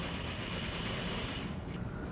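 A sewing machine runs steadily, stitching fabric in a straight line as the material is lightly guided by hand; the continuous mechanical whir holds an even level throughout, close and alone, with no talking.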